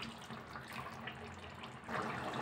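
A quarter cup of water is poured into a pan of green chicken gravy, a short, soft splashing trickle that swells slightly louder toward the end, close by with no talking.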